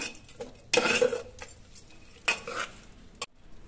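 Ginger garlic paste stirred into tomato masala in a pot for tomato bath: a spoon scrapes and clinks against the metal in two loud bursts, with a faint sizzle between strokes.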